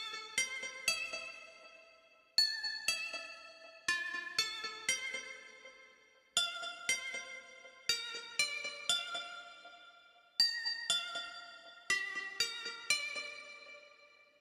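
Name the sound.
lead keys synth melody loop on Roland SPD-SX Pro pad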